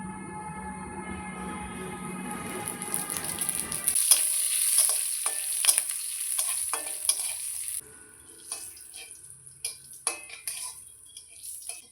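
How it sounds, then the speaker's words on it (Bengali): Radhuni seeds dropped into hot oil for tempering a Bengali fish curry with Malabar spinach, a loud bright sizzle that starts abruptly, with spoon scrapes and clinks against the pan before it settles to a quieter crackle. "আমি রাঁধুনি ফোড়ন দিচ্ছি"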